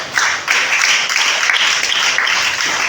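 A church congregation applauds together, producing dense, continuous clapping that stays loud and close for a few seconds.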